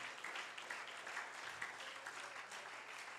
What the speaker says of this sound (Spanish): Dale ese aplauso fuerte a Jesús en esta hora.